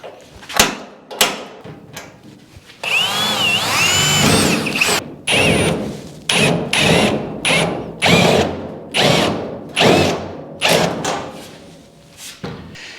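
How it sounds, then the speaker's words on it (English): A power drill with a step bit cuts through metal body panel on a 1953 GMC truck, running in repeated short bursts with pauses between, close and loud, and one longer whining pass near the start. "Just hit it with the step bit."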